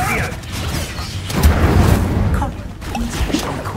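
Incendio fire spell cast during combat in the video game Hogwarts Legacy, a loud burst with a low boom and crackling rush that swells and lingers over a rumbling background.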